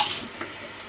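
Tap water runs in a steady hissing stream to refill a dog's water bowl, close and continuous through the whole moment, with no voices.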